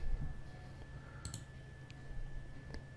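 A computer mouse gives a few faint, sharp clicks in a quiet room, with a steady background hum.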